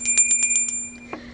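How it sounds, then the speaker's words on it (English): A small bell rung in a quick series of about six bright dings, close and clear, then fading into quiet. "I want to ring my bell"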